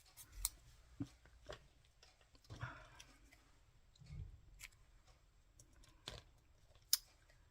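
Scissors cut out paper leaves for a junk journal, faint scattered snips and paper rustles with quiet clicks in a still room.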